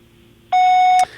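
A single loud electronic voicemail beep sounds alone after a quiet phone-line hiss, one steady tone lasting about half a second before cutting off.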